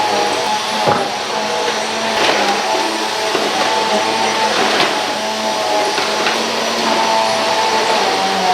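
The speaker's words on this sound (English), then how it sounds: "So run the vacuum, do the vacuum," A household vacuum cleaner runs steadily over floors, a loud continuous motor whine and airflow hiss lasting throughout with no pauses and no talking.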